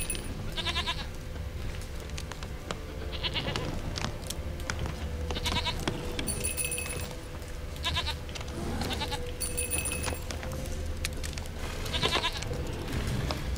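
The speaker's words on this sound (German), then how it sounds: "Es ist kein Huhn, es ist eine Ziege." A goat bleats repeatedly in The Witcher 3: Wild Hunt, its wavering cries coming in uneven bursts over a continuous low game ambience, with no speech.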